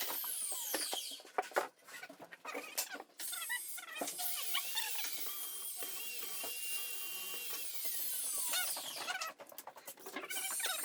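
A power drill pre-drills a hole into a wooden cabinet for a bench install, giving quiet whirring bursts with squeaky, ratcheting mechanical tones that start and stop several times.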